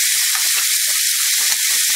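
Shallots and grated coconut sizzle as they are sautéed in a pan for chana dal chutney, a steady close crackling hiss with no talk.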